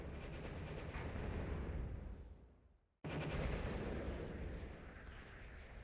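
Thud units firing in the Total Annihilation real-time strategy game, a dense continuous roar of artillery and explosions that fades out, cuts to silence, then resumes loud and sustained.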